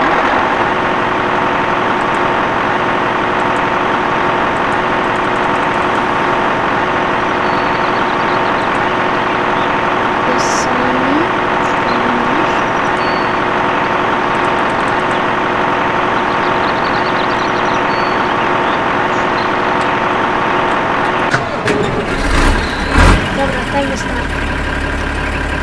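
A tractor engine idles steadily in the farming video game Farming Simulator 13, a continuous mid-low drone that stays constant throughout, with a brief burst of louder noise near the end.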